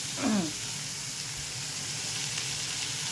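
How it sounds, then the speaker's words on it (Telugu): Potatoes frying in hot oil give a soft, steady sizzle, with a brief scrape of a ladle stirring them near the start. "కొంచెం ఇలా వేగిపోతూ ఉంటుంది గరిటతో కలుపుతాను నేను"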